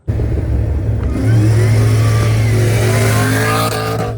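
A 2000 Camaro SS with a single-turbo 5.3 engine rumbles loudly up close, then revs higher and holds a steady, droning note for several seconds, with no talk over it.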